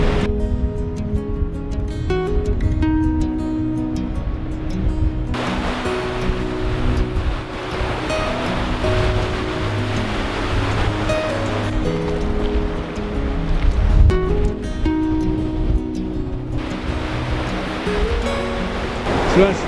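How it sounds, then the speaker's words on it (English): On a beach, the incoming tide sends waves breaking and surging continuously in loud washing roars up close, with a strong steady rush and no pauses. "So that's the tide coming in and we're making our way back off the beach now."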